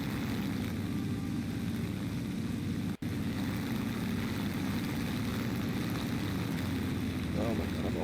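A Yakovlev Yak-7B propeller fighter in a video game drones with a steady, even engine roar throughout, broken only by a brief cut, heard at a constant level.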